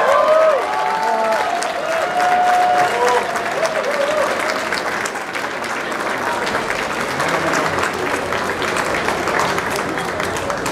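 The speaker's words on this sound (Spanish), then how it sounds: "el señor Jorge Urbano, para cual pido un fuerte aplauso." Loud, sustained audience applause at the inauguration of the Soundcheck Expo 2019 trade show, dense clapping mixed with crowd murmur and a few cheers continuing steadily for about ten seconds.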